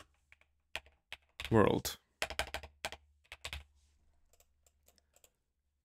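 Computer keyboard keys clatter nearby in quick bursts, with a denser run of presses in the middle and scattered lighter taps afterward, while a voice speaks briefly.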